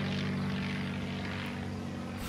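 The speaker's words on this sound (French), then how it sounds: "Je sais pas si c'est un avion ennemi ou gentil." A propeller airplane flies over in Far Cry 6, its engine a loud, steady droning roar that fills the scene alone, with no talk.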